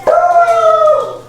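A dog reacting to delivery trucks passing the house lets out a single drawn-out howling whine, loud and close, with no talking.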